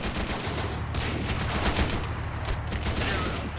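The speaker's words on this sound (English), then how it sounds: "Germans opening up with their MG 34s or 42s. Sound like a 42." A German MG 42 machine gun rattles off a sustained, rapid stream of fire in a World War II game battle, dense and continuous with a brief gap partway through, no voices.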